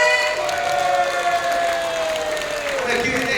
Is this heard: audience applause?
yes